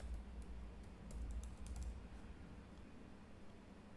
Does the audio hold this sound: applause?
no